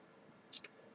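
A computer mouse button gives a crisp, quick double click, a press and release, as it clicks a Photoshop layer thumbnail in an otherwise quiet room.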